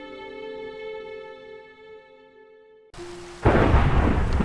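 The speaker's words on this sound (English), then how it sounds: "there's a thunderstorm has just started" A thunderstorm breaks in the video game Minecraft, a loud rumbling crack followed by a dense roar of rain, cutting in after a sustained musical tone.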